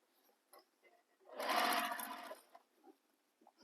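A sewing machine stitches a bag seam in one short burst of about a second, surrounded by quiet handling noise.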